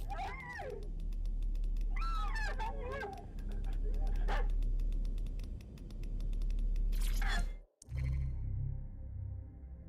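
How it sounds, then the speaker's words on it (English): A Border Collie barks and yips in the video game Watch Dogs: Legion, several short close barks in bursts over a steady low background drone, with a brief cut to near silence partway through. "That's a bloody dog, man!"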